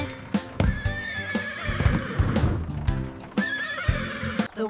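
Repeated horse neighs rise and quiver over brisk clip-clop hooves, set against a cheerful nursery-rhyme accompaniment, close and fairly loud.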